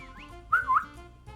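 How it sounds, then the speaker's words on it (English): A man whistles in the Pokémon XD: Gale of Darkness game, with a short rising whistle up close that is loud for a moment and then fades over quiet background music. "This guy whistles at them."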